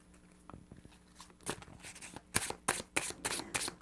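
Oracle cards are shuffled by hand during a tarot reading, quiet soft rustles building into several sharper riffling bursts near the end, heard close up with no voices.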